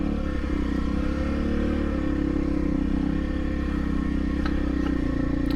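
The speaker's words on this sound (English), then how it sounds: "four-wheelers were definitely out this weekend, tearing it up, as you can see" Four-wheeler ATVs churn along a wet, muddy trail, a steady engine drone holding at an even level throughout without any break.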